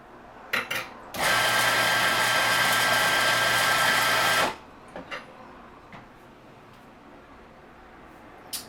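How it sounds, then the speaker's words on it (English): An espresso grinder whirs loudly and steadily for about three seconds, grinding coffee into a portafilter, then cuts off, with a few small knocks before and after. "grind the appropriate amount of coffee for your portafilter and machine into the portafilter"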